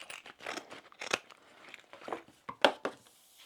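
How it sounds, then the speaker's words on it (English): Scissors snip off basting stitches on a sewn crossbody bag, a quick series of close, crisp cutting clicks and light rustling of fabric, heard alone. "I'm going to cut my basting off"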